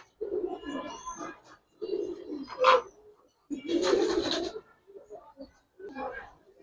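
Giribaz and coloured pigeons give low, throaty coos in several short phrases, close by, with human voices mixed in among the calls.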